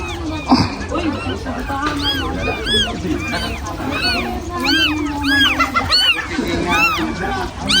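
A cat meows repeatedly in short rising cries, close by, mixed with people talking and some background clatter.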